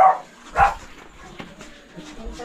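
A dog on a pig-raising farm gives two quick, close barks, one at the start and another about half a second later, then quieter snuffling, with a person's voice faintly around it.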